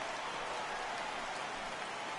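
Heavy rain pours steadily over a ballpark during an MLB The Show baseball game, a dense, even hiss that stays loud and unbroken throughout, with no voices.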